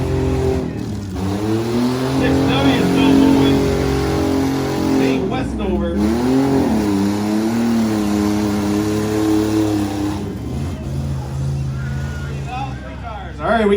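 Full-size trucks racing in a heat at the Washington County Fairgrounds, their engines loud and close, roaring and revving in long sustained pulls that rise and fall, with talk over the top.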